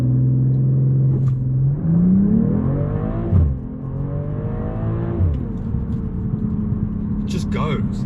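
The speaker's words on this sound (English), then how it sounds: "And I'll do a little 0 to 60 launch so you can have a quick look again." BMW M340i Touring with the B58 engine launching from 0 to 60, a rising engine note climbing through quick gear changes with brief dips between shifts, heard from inside the cabin.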